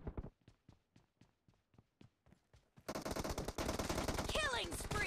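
Gunfire in the mobile game BGMI during team deathmatch: a string of separate sharp shots, then a sustained burst of rapid automatic fire with ricochet-like whines near the end.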